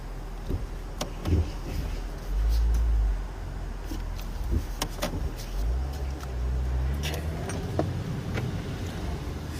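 Mercedes-Benz E450 Cabriolet driving with its roof down, a steady low road and wind rumble with swells of engine and tyre noise, plus faint occasional clicks and knocks from the cabin.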